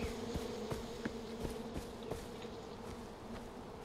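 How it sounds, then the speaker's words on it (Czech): Swarming wasps from a hive in the video game Far Cry 4 drone in a steady, close insect buzz, with sharp periodic clicks or impact sounds punctuating it throughout. "Vosy utočí, vole."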